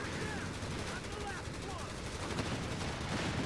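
A British Cromwell tank fires its 105 gun during a World War II battle in the Company of Heroes strategy game, amid a dense, continuous roar of gunfire and explosions.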